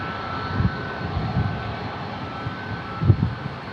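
An airliner in Desert Gold special livery rolls at San Diego International Airport, a soft, steady distant engine rumble with a few faint low thumps, fairly quiet throughout.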